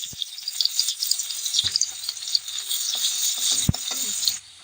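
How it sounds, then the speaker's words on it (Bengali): Onions fry in a pan of oil that was just used for fish, giving a close, constant sizzle and crackle with a few sharp pops and stirring clacks. The sizzle drops off abruptly at the end. "এবার আমি পেঁয়াজটা ভেজে নেব।"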